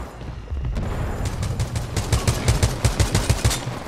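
Rapid gunfire from a weapon in Titanfall 2, starting after a brief lull and then cracking in a fast, loud burst of repeated shots close by, with no talking.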